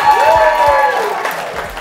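Wedding guests applaud at a reception at Merrydale Manor, a short burst of clapping mixed with tonal sounds and voices, fairly loud and close.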